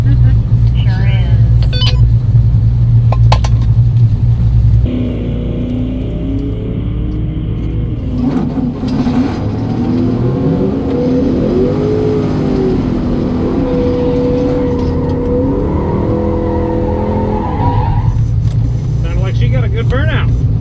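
A rally car's engine idles loudly, then revs up and down repeatedly during a burnout at a rally stage, with rising and falling pitch sweeps and a steady rumble, close and dominant for the whole stretch.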